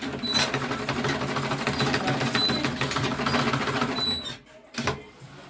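A sewing machine runs in a steady rapid whir while stitching a half-inch tote bag seam, then stops abruptly before a brief final burst of stitching.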